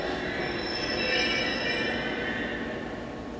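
Steady, high-pitched squeal of train wheels grinding on rails, a continuous metallic screech over low rumbling rolling noise, fairly close and without speech.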